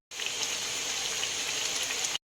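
Steady bubbling and hissing of water boiling in a pot for bulanglang vegetable soup, a continuous close sizzle with no talking.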